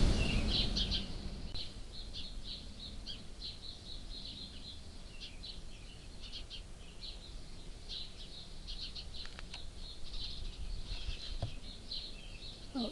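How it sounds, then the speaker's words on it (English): Small birds chirp and squabble in the background outdoors, faint rapid twittering calls scattered through a steady hiss, with no talking. "As you can hear, there's birds in the background. They're fighting, I think."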